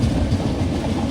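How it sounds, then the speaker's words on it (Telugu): Pinakini Superfast Express, running from Vijayawada Junction to Chennai, passes close by with a loud, steady rumble and rapid clickety-clack of wheels throughout the brief moment, no voices. "ట్రైన్ వచ్చేసి మనకు Vijayawada junction to Chennai centre వెళ్ళే పీనాకిని సూపర్ ఫాస్ట్ ఎక్స్ప్రెస్ ట్రైన్ ఇది"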